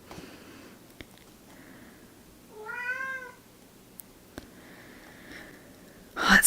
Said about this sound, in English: Oh, it's just my cat.